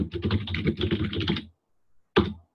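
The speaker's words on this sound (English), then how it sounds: "When you start typing a message" Rapid keyboard typing, a dense burst of clicking keys for about a second and a half, then a pause and one final keystroke.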